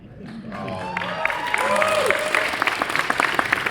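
An audience at a Galaxycon Raleigh 2024 convention panel breaks into applause, claps swelling and spreading through the room with scattered cheers and talk mixed in, sustained to the end.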